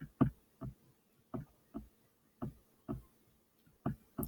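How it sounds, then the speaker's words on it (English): A computer mouse clicks softly and close up in an irregular series of about a dozen separate taps, each followed by brief quiet, with nothing else heard. "Trying to click my mouse a little bit more softly."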